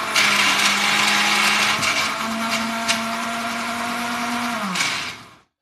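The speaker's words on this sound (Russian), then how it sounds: "И сразу же все загружаю вот сюда в блендер и ставлю" A kitchen blender whirs steadily as it purees oat and protein pancake batter made with kefir, its motor holding a loud, even drone with a slight pitch shift before spinning down and stopping.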